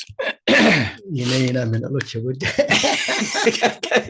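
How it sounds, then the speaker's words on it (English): A loud, harsh cough bursts out near the mic, followed by spoken words in a voice. "it was a loud cough"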